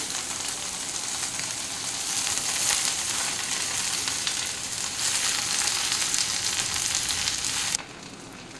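Drumstick leaves fry over medium heat in a pan with green chilies, giving a loud, continuous close sizzle that drops off sharply near the end, with no speech.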